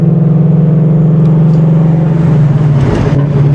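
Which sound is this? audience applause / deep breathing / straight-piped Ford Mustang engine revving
straight-piped Ford Mustang engine revving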